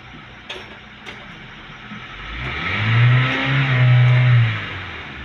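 A Hyundai or Kia car engine that had trouble accelerating revs up on a road test drive, rising from a low hum into a loud, sustained mid-pitched roar that swells for a couple of seconds and then eases off, with no talking.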